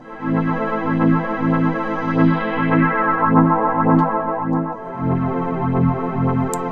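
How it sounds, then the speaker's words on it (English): A warm, filtered synth pad holds steady chords with a gently pulsing low end, swelling and dipping slightly, with no voices. "And then that filter pad on its own sounds like this."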